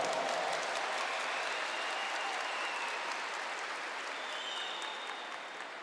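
An audience at a Catholic retreat camp applauds: broad, steady clapping from a large crowd that holds evenly and then slowly tapers off toward the end.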